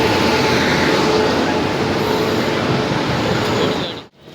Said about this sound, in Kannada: ನೋಡಿ, ಇವಾಗ ಒಂದು ಟ್ರೈನ್ ಬರ್ತಾ ಉಂಟು.